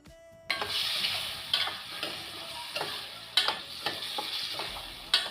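Potatoes cooking in a pan with salt and softened tomato, a soft steady sizzle starting abruptly, punctuated by irregular clinks and scrapes of stirring, fairly quiet and close.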